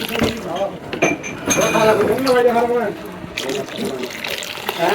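Day-old whey water being stirred into cow's milk in a pot while making chhana sweets at home, with close sloshing and clinking of utensils under ongoing talk.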